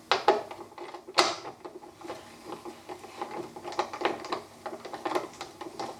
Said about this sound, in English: Next is a size 10 socket on the top of the light.